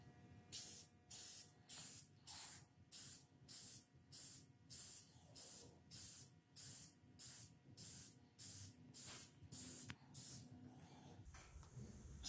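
Aerosol spray paint being applied to the wood of an arcade cabinet, about fifteen short even hissing bursts in a steady rhythm, close and clear, followed by a brief rustle at the end.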